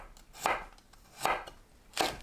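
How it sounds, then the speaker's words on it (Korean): A knife slices through ginger on a board in three crisp, evenly spaced cuts, close and clear with quiet gaps between and no talking. "생강을 썰어줍니다."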